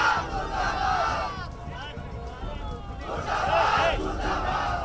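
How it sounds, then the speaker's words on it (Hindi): Large crowd of villagers gathered in a field, shouting protest slogans against the police in loud waves of massed voices, swelling at the start and again toward the end with a constant rumble of crowd noise between. "पुलिस प्रशासन के खिलाफ गुस्सा है। मुर्दाबाद के नारे लगाए जा रहे हैं।"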